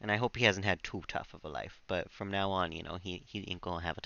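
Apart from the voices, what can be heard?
No everyday noises stand out.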